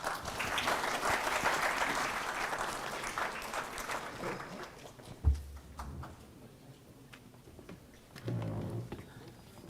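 A crowd applauds loudly for several seconds, then the clapping thins out and fades, leaving a few scattered claps and faint background noise.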